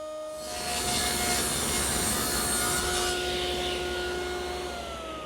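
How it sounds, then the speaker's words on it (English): Router with a 1/4-inch roundover bit cutting a bead detail around a wooden drawer front: a loud, continuous high whine with a rough cutting rasp spins up and holds for several seconds, close by, with no talking. "With my 1/4-inch roundover bit, I'm able to make this bead detail around the draw front."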